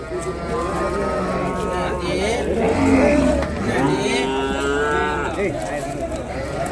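Cattle low and moo repeatedly at a busy cattle market at Vaniyambadi, with pairs of big bulls and heifers present, long drawn calls rising over crowd murmur and vehicle noise.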